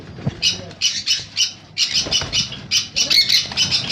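Blue conures and other conure parrots, including sun, pineapple and yellow-sided conures, give repeated harsh, shrill squawks in quick overlapping bursts, close and loud throughout, with faint wing flutters and low background noise.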